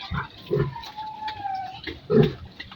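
Pregnant sow about 56 days along, grunting up close in a few short, rough bursts, with a thin whine drawn out between them.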